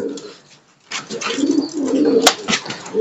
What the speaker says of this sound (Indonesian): Nah ini merpatinya.